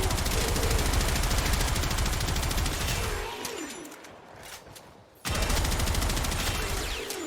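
Sustained, loud automatic fire from the Gotva Prime rifle in Warframe, a dense rattling burst lasting about three seconds, a brief lull, then another long continuous volley.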